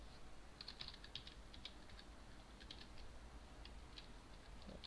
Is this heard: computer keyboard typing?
yes